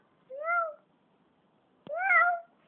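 A voice imitates a cat's meow twice, two drawn-out mewing calls separated by a pause, close and clear with no other talk.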